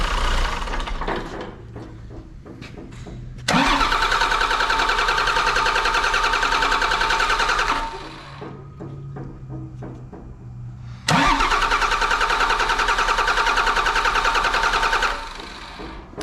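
A used John Deere engine bought at auction is cranked to work air out of the fuel system. It gives two long, loud starter-cranking runs of about four seconds each, a steady churning whir with quieter gaps between them.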